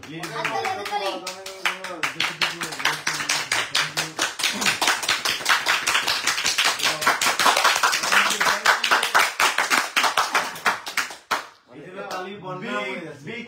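A group of people at a night-time hilltop gathering in Cox's Bazar claps in steady rhythmic unison, loud and close, for about ten seconds, with voices and singing at the start and end.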